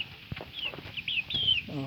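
Several short chicken clucks close by, with a few higher chirping calls layered over a soft background murmur.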